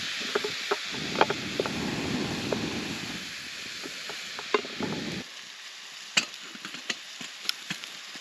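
Ground beef sizzling in a pan over a campfire during snowy winter camping, a steady soft frying hiss that cuts off midway, followed by sparse clicks and scraping stirs.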